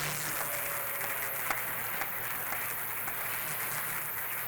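A church congregation at an anointing-oil worship service applauds and cheers in a steady, dense wash of clapping with occasional sharper claps, filling the room at an even level throughout.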